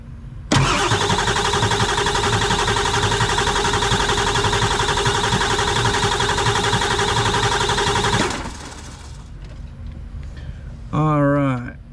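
A Ford 7.3 diesel cranking over with its high-pressure oil pump being tested, a loud steady starter churn running for about eight seconds before stopping, followed by a quieter hum and brief voices.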